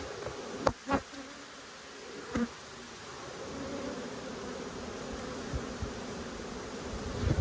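Honey bees buzz steadily around a nucleus hive in an Australian apiary, a dense continuous hum with a few sharper close passes early on, with no voices.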